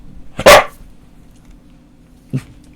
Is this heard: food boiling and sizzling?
no